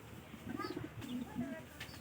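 Pigeons coo softly in a few low, rounded phrases, close and fairly quiet, with faint chirps above them.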